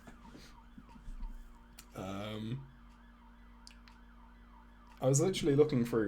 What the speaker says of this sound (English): Sorry if you can hear the siren outside.